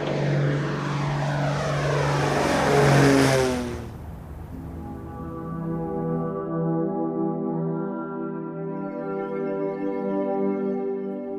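Propeller aircraft engines of a vintage bomber taking off, a loud steady droning roar that swells as it climbs, then drops to a lower, smoother multi-engine hum held to the end, with no voices.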